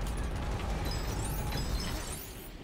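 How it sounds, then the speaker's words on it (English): A roaring game explosion as the Millennium Falcon blows up in LEGO Star Wars: The Skywalker Saga, a dense, loud rumble with crackling debris that holds steady and then eases off slightly near the end. "Careful, the Falcon is about to blow."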